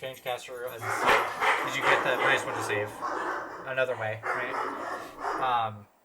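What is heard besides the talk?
dogs barking in the background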